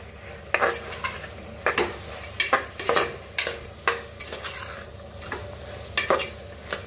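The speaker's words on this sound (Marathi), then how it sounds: "बघा छान असा मसाला भाजून घ्यायचा" A spoon scrapes and clinks repeatedly in a pan while spice masala of turmeric, chilli and coriander powder roasts, with a soft sizzle underneath the irregular stirring strokes.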